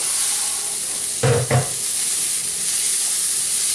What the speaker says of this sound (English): We're going to add the celery now. Give that a stir.